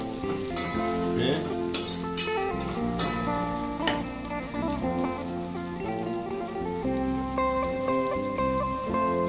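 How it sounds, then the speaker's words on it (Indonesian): Spice paste frying in a pan, a dense, steady sizzle close by with occasional sharp crackles and the scrape of stirring; no talking. "Kita goreng bumbu ini sehingga dia mengeluarkan bau nih guys."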